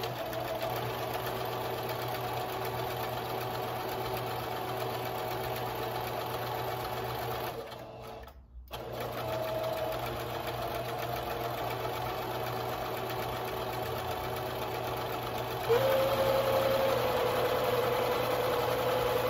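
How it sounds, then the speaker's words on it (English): A sewing machine runs steadily, stitching a 1 inch suspender strap. The close, continuous motor whir pauses briefly midway, then resumes at a slightly higher pitch. "I'm gonna follow the guide for a 1 inch, and I'm gonna stitch that all the way through"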